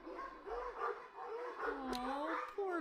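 Trained attack dogs in a video game bark and yip in short overlapping bursts across the clip, mixed with some whimpering, close and fairly loud under ongoing voices.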